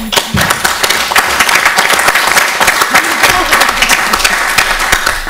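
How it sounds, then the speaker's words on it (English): Attendees at a council meeting give a round of applause, a full, close burst of many hands clapping that carries steadily for several seconds, with a few voices murmuring underneath. "can we give him a clap?"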